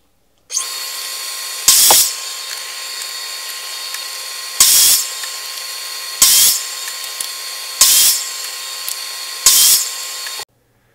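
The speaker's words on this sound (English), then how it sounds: "Now we're going to cut these to length on the miter saw." Miter saw cutting boards to length, the motor running in a steady whir while five sharp louder bursts mark each pass through the wood, close and loud with no talk.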